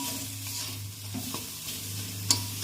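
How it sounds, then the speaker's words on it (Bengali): Egg stirred with spices in a pan makes a soft, steady sizzle with a low hum beneath and light scraping ticks, ending in two sharper clicks of the utensil. "এবার মশলার সঙ্গে ডিমটা ভালো করে নেড়ে নিতে হবে"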